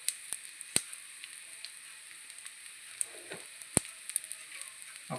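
Paneer frying in a pan gives a steady, quiet sizzle, with a few sharp ticks and pops scattered through and a brief stirring scrape partway along.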